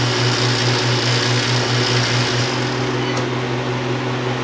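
A freeze dryer runs steadily while drying apple pie oatmeal bites, giving a continuous close mechanical hum with a low droning tone and a constant even level throughout, with no talk.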